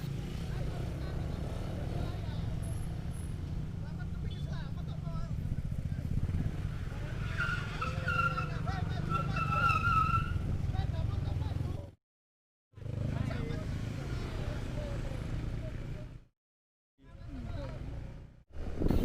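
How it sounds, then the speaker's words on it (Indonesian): Cars on a steep, sharply turning uphill road, engine rumble with tire screeching as vehicles skid on the climb, broken by brief cut-outs, while someone talks over much of it. "kendaraan lain dan termasuk mobil juga ada yang selip, dikarenakan tanjakan terlalu tinggi dan berbelok tajam"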